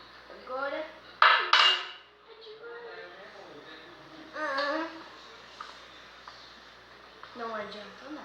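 Slime being stirred in a bowl with a utensil, giving a couple of sharp clinks and scraping rattles against the bowl, while voices talk on and off nearby.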